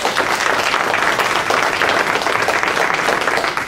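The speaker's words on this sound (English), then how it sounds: "thank you, George, for the round of applause." An audience at a school event applauds with loud, dense, continuous clapping that fills the whole stretch at an even level.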